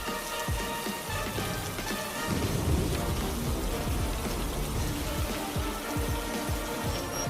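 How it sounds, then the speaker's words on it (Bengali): Torrential night rain falls in a dense, continuous hiss, with several low rumbles and cracks of thunder breaking through at intervals. "কি মুষলধারে বৃষ্টি পড়ছে গো"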